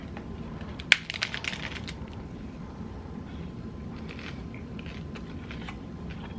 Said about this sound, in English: I took a big bite.